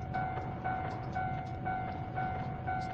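An oncoming train rumbles past in a PlayStation train-driving game, with steady rhythmic wheel clatter and a faint tonal whine, moderately quiet.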